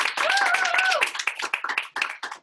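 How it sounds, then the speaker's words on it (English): Applause at a gala awards evening, a burst of clapping from the audience that rings out strongly before thinning into scattered claps, with a brief vocal whoop early on. "So please, everybody, give a big round of applause for Amy Wren."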